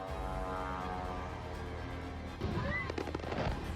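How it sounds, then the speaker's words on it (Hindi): Explosions during a drone attack over Moscow arrive as distant booms and crackling bursts after a stretch of low rumble, with faint voices in the background. "मॉस्को में ड्रोन अटैक के बाद धमाकों की आवाज लगातार गूंज रही है"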